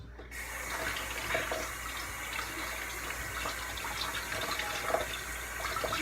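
Water runs steadily from a tap to wet homemade slime, a continuous close splashing stream at moderate level with faint handling noises.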